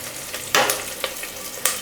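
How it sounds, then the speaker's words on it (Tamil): Chopped onions sautéing in a hot pan for a Tamil goat intestine gravy, a steady close sizzle broken by a few sharp stirring scrapes, with no voices. "வெங்காயம் நல்லா வதங்கி வரட்டுங்க"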